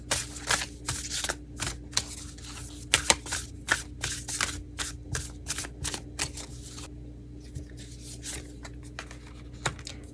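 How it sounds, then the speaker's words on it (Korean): Tarot cards shuffled by hand to draw a hint card, a run of crisp riffling flutters and soft slaps in quick uneven bursts, close and clear, then a quieter stretch before one last snap. "앞으로 2주간 이제 일어날 어떤 일에 대한 어떤 힌트 카드 하나만 더 뽑아보도록 할게요"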